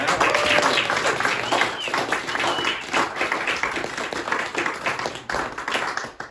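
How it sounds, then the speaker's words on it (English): An audience applauds a singer named Emily at a live tribute show, with steady, dense clapping filling the whole stretch, loud at first and thinning slightly toward the end. "one more round of applause for Emily as well."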